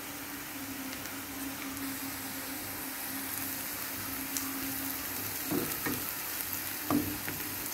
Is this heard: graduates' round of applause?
no